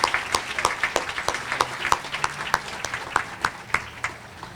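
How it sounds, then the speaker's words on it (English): A small audience claps for the mayor at a Pink Out breast cancer awareness event in Waterbury, with distinct individual hand claps at a fairly steady rhythm, close and moderately loud, and no talking. "So just a round of applause for the mayor, please."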